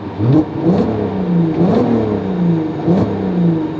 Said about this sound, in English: I am really going to enjoy those VR6 sounds